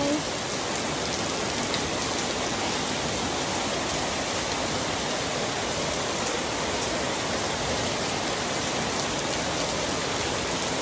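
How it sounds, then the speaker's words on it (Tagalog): A heavy, unbroken downpour drums on surfaces nearby, loud and uniform throughout with individual drops pattering in the dense wash. "Nag-ulan na."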